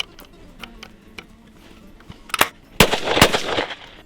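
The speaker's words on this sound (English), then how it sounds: "First shot coming up." A .410 shotgun fired through a chamber insert fitted in a larger-gauge gun, a single sharp report after quiet handling clicks and rattles, followed by a loud ringing burst.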